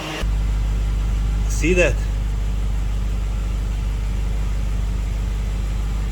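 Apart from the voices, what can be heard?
BMW 735i engine idling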